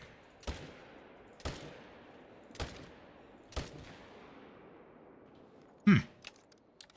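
Rifle shots fired at tahr while hunting in theHunter: Call of the Wild: four sharp, loud reports, spaced roughly a second apart, each ringing out with a short echo over quiet mountain ambience, followed by a few faint clicks and thumps.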